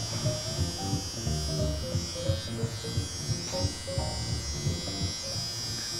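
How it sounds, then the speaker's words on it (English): An electric detailer trimmer cuts and shapes the lines of a beard at a barbershop, giving a steady, close, loud buzzing hum that continues for the whole stretch with slight shifts in pitch as it moves across the hair. "Just going to define the lines first by using my detailers"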